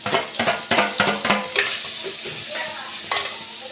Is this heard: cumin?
yes